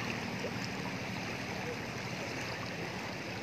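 Floodwater rushes down Jalan Sempaja in Samarinda at night like a river, a dense, steady roar of flowing water with no break.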